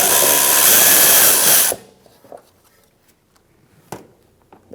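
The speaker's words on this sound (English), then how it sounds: "T27 Torx bit, we're going to take out these two bolts." Loud, close power drill whirring with a T27 Torx bit as it backs out a bolt on a 2012-2018 Ford Focus inner fender liner, running steadily then cutting off abruptly, followed by faint clicks and handling noises.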